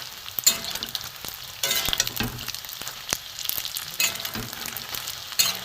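Paneer cubes frying in hot oil for Kashmiri paneer, a steady close sizzle broken by sharp crackles and pops, with brief louder bursts as the pieces are turned.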